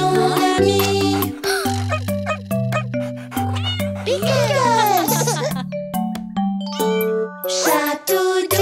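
Cartoon cat meows within a bouncy French children's song about furry animals, the meows riding over a steady sung melody with bright chimes and tinkling bells.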